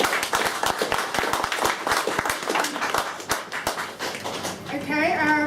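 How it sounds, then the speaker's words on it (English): An audience applauds a speaker being introduced at an evening talk, with a lively patter of many hands clapping that thins toward the end as a voice begins. "Please give Janine a round of applause"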